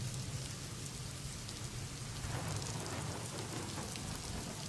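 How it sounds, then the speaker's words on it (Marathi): Steady, dense rain pours during a heavy monsoon downpour in Beed, Maharashtra, a continuous close hiss of drops striking surfaces with a low rumbling undertone and no voices. "आमच्याकडे पाऊस चालू होता आज"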